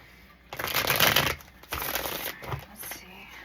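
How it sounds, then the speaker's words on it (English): A deck of cards is shuffled close by in two quick rustling bursts, a longer riffle followed by a second softer run, with a faint background hiss. "I just want to shuffle these up real quick for us."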